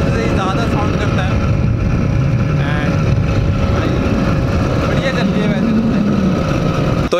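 A homemade motorcycle built from a bicycle with an added engine runs loudly and steadily, its continuous rough drone close and dominant throughout, with a voice faintly under it.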